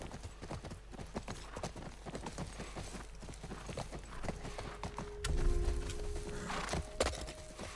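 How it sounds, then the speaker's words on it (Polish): Horse hooves clip-clop in a steady walking rhythm in The Last of Us Part I, close and fairly soft, and a brief neigh and a low rumble come later. "Wskakuj na konia."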